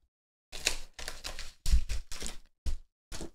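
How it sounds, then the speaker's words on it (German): Plastic foil crinkling and rustling while an Asus ZenWiFi XD6S router is unboxed, close and crisp, in several short bursts separated by brief silences. "Der erotische Klang von Folie."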